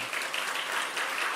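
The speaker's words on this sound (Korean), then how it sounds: "아주 훌륭한 가정들인데 박수 한번 쳐주시죠." Steady applause from a congregation filling a church, continuous clapping at even loudness with no voices over it.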